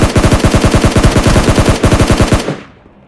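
Rapid automatic gunfire in the mobile shooter PUBG Lite, a loud sustained burst of closely spaced shots for over two seconds before it cuts off and a faint tail remains.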